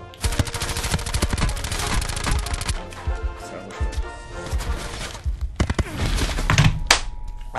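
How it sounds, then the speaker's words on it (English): Rapid automatic gunfire bursts, then scattered single shots and thuds, sound loud and close during a Black Ops 4 Blackout match, with voices faintly underneath. "Oh, shocking shooting, Swamp Man."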